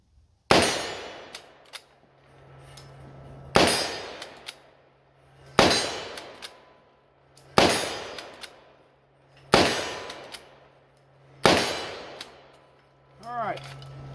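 Six bolt-action rifle shots fired at a steel target about 30 yards away, each a sharp loud crack followed by a decaying ring, spaced roughly every two seconds with bolt-cycling noises between them.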